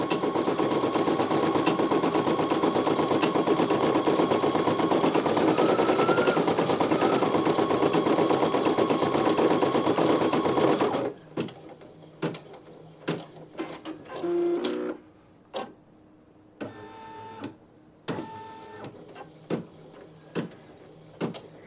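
A Brother PE900 embroidery machine stitching a design on a 5 x 12 multiposition hoop hums in a dense, steady mechanical rattle for about eleven seconds, then breaks into short whirs and clicks as it trims jump stitches.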